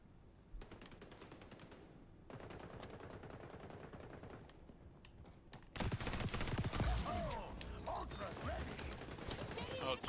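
Video game gunfire crackles in bursts, sparse and sharp at first, then swelling into a loud, dense fusillade of rapid shots and explosions in the last few seconds. A player's voice is heard amid the shooting.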